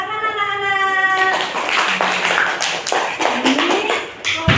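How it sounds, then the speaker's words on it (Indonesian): Children clapping together in a classroom during group presentations, a dense run of sharp hand claps that starts about a second in and continues steadily to the end, loud and close, with a tone sounding before the claps begin. "Tepuk tangan anak-anak."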